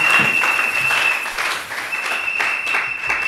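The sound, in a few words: congregation applause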